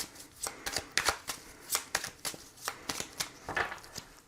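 Oracle cards being shuffled by hand, a quick rhythmic series of close, papery riffling and slapping bursts repeating about every quarter second.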